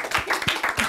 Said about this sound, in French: Ok, bravo, vous pouvez vous applaudir.